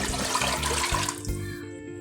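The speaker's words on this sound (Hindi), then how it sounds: "अब मैं इसमें पानी शामिल करूँगी" Water gushes into a cooking pot while making apple murabba, a loud splashing pour that tapers off and stops near the end of two seconds.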